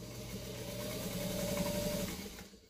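A vintage White 305 sewing machine runs a straight stitch, a steady mechanical hum with a quick rhythmic needle patter, close and moderately loud, winding down at the end.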